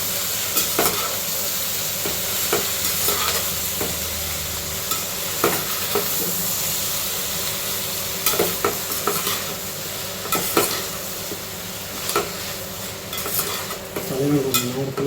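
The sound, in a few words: watermelon pieces being stirred and sautéed in a pan for chutney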